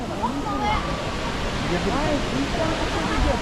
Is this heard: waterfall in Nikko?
yes